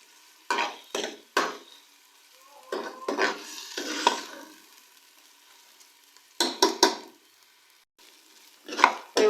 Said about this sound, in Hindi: अदरक लहसुन के पेस्ट को मैंने 1 से 2 मिनट तक प्याज के साथ पका लिया अच्छी तरह से